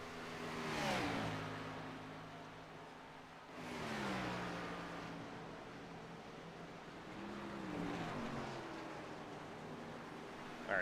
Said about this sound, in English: All right, cars pulling back onto the track here.